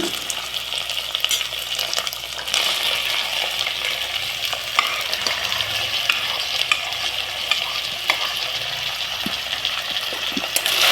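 Chopped vegetables with ginger garlic paste tossed and stirred in a pan for a vegetable palaw, a loud continuous close sizzle with repeated scraping and clinking of the spoon throughout and no speech.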